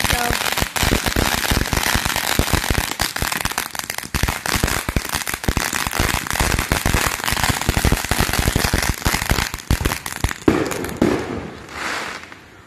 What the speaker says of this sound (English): We got three fireworks